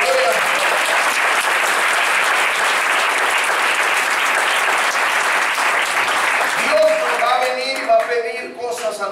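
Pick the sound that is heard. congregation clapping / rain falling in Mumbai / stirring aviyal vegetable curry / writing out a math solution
congregation clapping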